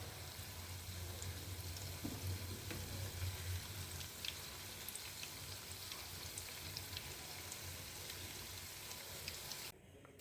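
Panasa thonalu sweets deep-frying in hot oil, a steady dense sizzle and crackle filling the whole stretch, close and continuous, ending abruptly.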